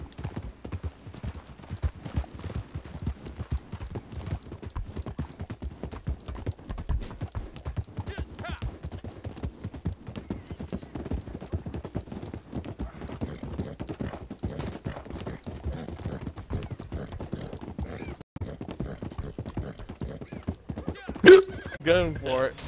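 Steady rapid hoofbeats of a galloping horse in Red Dead Redemption, continuous and fairly close, with a brief louder burst near the end and faint talk underneath.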